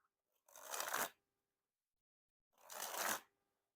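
Two separate bursts of Bicycle Black Tiger playing cards being dribbled from the hand, each a quick papery riffling flutter lasting under a second, close and clear, with silence between.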